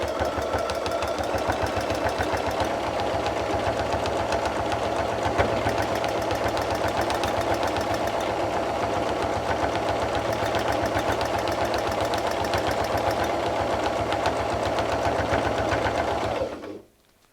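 A sewing machine quilts straight stitch lines on a butterfly appliqué, running as a fast, even, close mechanical whir for about sixteen seconds before stopping abruptly.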